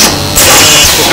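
A paper cone making machine free running with no materials loaded gives a loud, steady mechanical hum and whir that steps up in intensity partway through, with no voices.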